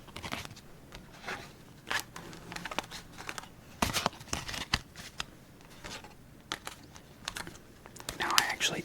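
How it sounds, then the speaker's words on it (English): A Neon Lights playing card deck gets a quick shuffle up close in a quiet ASMR setting: a burst of crisp riffles, flicks and soft taps with brief pauses between them. "let's just give it a quick shuffle"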